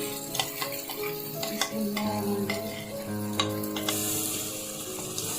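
Fish masala is stirred in a frying pan, with a spoon scraping and clinking against the metal over a soft sizzle and scattered sharp ticks, all close and without speech.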